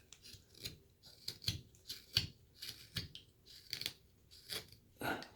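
A knife whittles a wooden drummer boy figure up close, giving repeated short scraping cuts in an uneven rhythm, each rasping stroke distinct against a quiet background.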